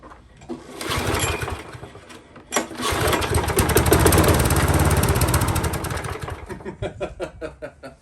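Quick pull-start of a lawn mower fitted with a Briggs & Stratton 300E series engine, which then roars at full throttle as a loud, close, steady drone before easing into uneven chugging.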